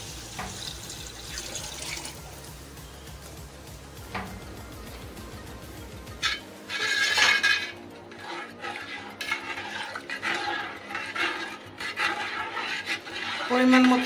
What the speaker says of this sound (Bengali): পরিমাণ মতো পানি দিয়ে ভালো করে নেড়ে চেড়ে মিশিয়ে দিব সব জায়গায়